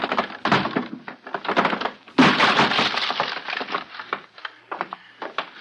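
A door is smashed open as a radio drama sound effect: a run of heavy wooden thuds and splintering cracks, loud and close, building to one big breaking crash and then scattered debris.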